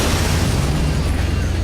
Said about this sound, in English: Let it get too hot, and it'll explode in a blaze of mud-splattered glory.